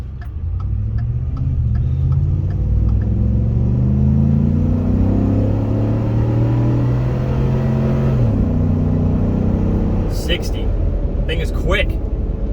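A 2014 Ford F-150 SVT Raptor V8 accelerates hard with a loud rising engine roar that climbs through the gears, shifting once partway through, and a voice speaks near the end.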